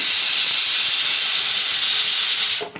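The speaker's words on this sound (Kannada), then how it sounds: "ಇವಾಗ ಒಂದು ವಿಷಲ್ ಆಯಿತು" A pressure cooker with onion-flower pulao rice lets out one loud, close whistle, a sustained steamy hiss that runs nearly three seconds before cutting off abruptly.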